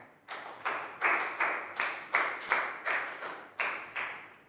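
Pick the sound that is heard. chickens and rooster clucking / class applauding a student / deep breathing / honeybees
class applauding a student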